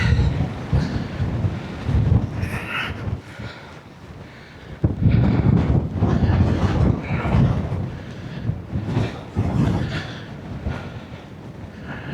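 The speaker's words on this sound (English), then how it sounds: "it's getting a bit windy." Strong wind buffets and roars across the microphone in gusts at an abandoned RAF base on a headland on Lewis, Outer Hebrides, rising and falling throughout, loud and close with rumbling low-end noise.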